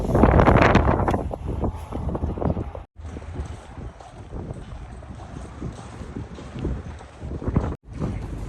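Blustery wind buffets the microphone in rough, uneven gusts, with a couple of abrupt dropouts; no voices stand out.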